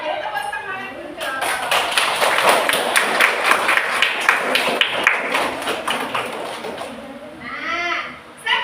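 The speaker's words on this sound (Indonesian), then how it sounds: "Oke, beri tepuk semangat dulu." A class of schoolchildren claps together in an encouraging rhythmic round of applause, a quick patterned burst of many hands, loud and close, with voices among the class mixed in before it stops.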